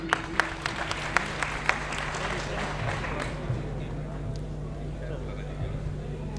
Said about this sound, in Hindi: तालियां बजाकर आप हमें हुक्म दे दें।